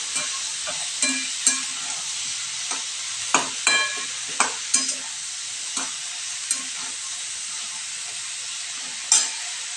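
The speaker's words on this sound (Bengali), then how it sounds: "একটু নাড়াচাড়া করে দেবো। দেখতে পাচ্ছ বন্ধুরা, আলুটা বেগুনটা অনেকটাই মজে গেছে।" Potato and eggplant frying in a pan while being stirred, with repeated spatula scrapes and clicks spaced across a constant oily sizzle, close and fairly loud.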